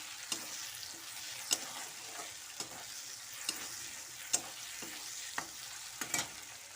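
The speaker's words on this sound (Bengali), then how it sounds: "দুটো তেজপাতা, তিনটে শুকনো লঙ্কা দিয়ে দিলাম।" Two bay leaves and three dried red chillies fry in oil with a quiet, steady sizzle, punctuated every second or so by sharp scraping clicks of a spatula against the pan.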